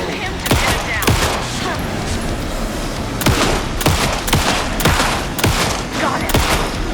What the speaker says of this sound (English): So shoot him.